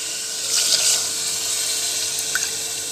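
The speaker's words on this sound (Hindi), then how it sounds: "अब हम इसमें 3 कटोरी पानी ऐड करेंगे" Water pours steadily into a pressure cooker pan of daliya with a bright splashing hiss, close and fairly loud, fading slightly toward the end.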